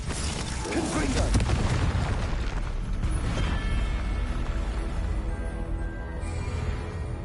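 Confringo fire spell explosions from the game Hogwarts Legacy, booming bursts and crackling blasts layered over loud continuous combat noise with mechanical clatter, dense and close throughout.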